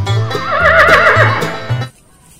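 A horse whinnies loudly and close, a long quavering neigh that rises and falls before cutting off into near silence.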